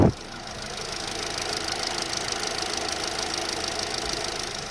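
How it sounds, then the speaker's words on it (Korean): A 2016 SsangYong Tivoli compact SUV's gasoline engine idles steadily and quietly with the hood open, a smooth even hum with light mechanical ticking, heard up close. "지금 바로 티볼리 엔진 사운드 들려드리도록 하겠습니다"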